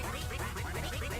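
Duck quacking in Final Fantasy XIV, a rapid rhythmic series of nasal quacks repeating steadily throughout, fairly loud and close with no talk over them.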